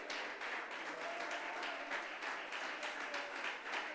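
Church congregation applauding during a Spanish-language sermon, a dense, steady wash of clapping from a crowd, fairly distant and quiet, with no speech on top.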